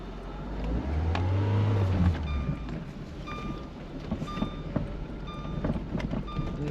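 A tractor crawls across a field in low range with its engine rumbling steadily, a rising rev near the start, and metallic clanks and rattles from the equipment scattered throughout.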